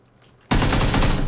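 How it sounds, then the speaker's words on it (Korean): A sudden loud burst of rapid automatic gunfire in a battle royale video game, starting abruptly after near silence and continuing strongly to the end. "이거 총소리 어디야?"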